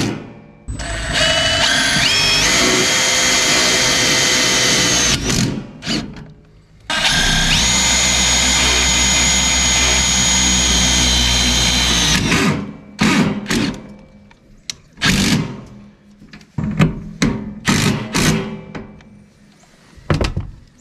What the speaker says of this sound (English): we're going to put a couple of regular pole barn screws like these right here